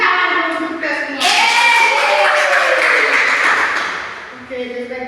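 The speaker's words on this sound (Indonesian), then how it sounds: "Tepuk tangan dulu kita semua" A classroom of pupils claps hands together with their teacher. A burst of scattered clapping rises mid-way and fades out, mixed with overlapping voices.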